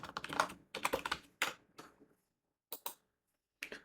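Typing on a computer keyboard while writing Pine Script code for a TradingView indicator, with close, crisp clusters of rapid keystrokes in short bursts separated by brief pauses.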